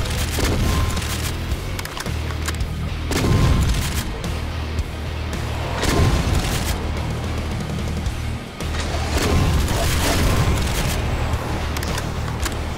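Chaingunner enemies firing in DOOM 2 with the Project Brutality mod, loud rattling gunfire mixed with heavy booming impacts that swell in several waves over a continuous noisy game backdrop.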